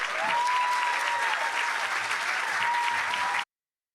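Loud, sustained applause from a poetry festival audience fills the room evenly for about three and a half seconds before cutting off abruptly.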